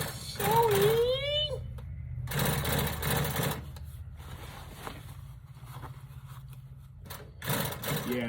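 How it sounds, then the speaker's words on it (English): Sewing machine stitching a vinyl convertible top for a Chevy Brougham, running in steady bursts with mechanical clatter, close and fairly loud, alongside some other shop noise. "So start sewing."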